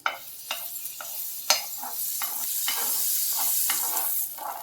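Butter sizzling in a hot tawa as paneer tikka cooks, a steady bright hiss broken by several sharp clinks and scrapes of a spatula stirring, moderately loud and close with no voices.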